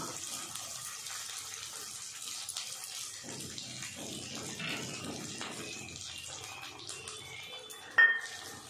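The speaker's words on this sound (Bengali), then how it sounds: "এবার সামান্য জল দিয়ে দেব।" A little water poured into frying masala of ginger, garlic, onion, cumin, coriander and chilli powders, giving a faint watery splash and hiss with soft kitchen clatter and a brief clink near the end.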